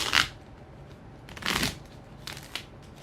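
Tarot cards being shuffled by hand, heard as three quick papery riffling bursts spaced about a second apart, close and moderately loud against a quiet background.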